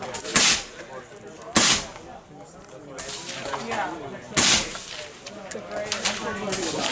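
Several suppressed gunshots crack at an outdoor shooting event, with sharp single reports spread a second or more apart. Quieter mechanical clatter and faint talk fill the gaps between shots.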